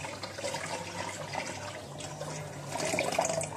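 Water is poured into a cooking pot set on a bucket, giving a close, continuous splashing and trickling that grows slightly stronger toward the end.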